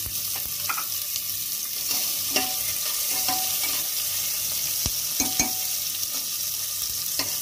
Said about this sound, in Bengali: যেগুলো ছিল এইগুলোকে কিন্তু একটু ভালো করে ভাজতে হবে, মানে এগুলোকে ভাজতে দিতে হবে।